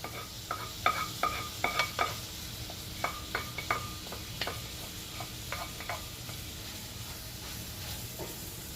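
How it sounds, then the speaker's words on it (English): Potatoes and onions tipped into cooked meat in a pan, a series of close clinks and scrapes of utensil on pan over a low sizzle, busier at first and then tapering off; no talking. "Let us transport the potatoes and the onions into the meat."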